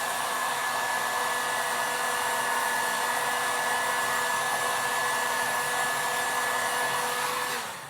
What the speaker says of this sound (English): you can heat up the ink as well.